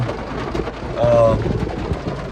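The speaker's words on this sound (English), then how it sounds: "And the rain is coming down here." Heavy rain pours steadily at a Louisiana house flip site, a dense close hiss with a fuller swell midway through, and no speech over it.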